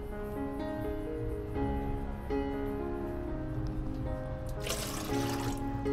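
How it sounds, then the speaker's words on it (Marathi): Chicken being washed under running water in a kitchen sink, a continuous tap stream with splashing and sloshing as the meat is rinsed, with a brief louder gush near the end. "दोन तीन पाण्याने मस्तपैकी चिकन एकदम धुवून घ्यावा टकाटक"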